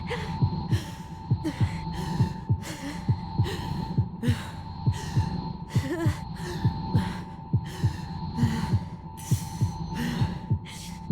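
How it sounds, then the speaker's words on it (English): Heartbeat sound effect from the video game Tell Me Why, a steady rhythmic thumping of roughly two beats per second running throughout over a constant low hum, loud and close with no talking. "My heartbeat's slowing down."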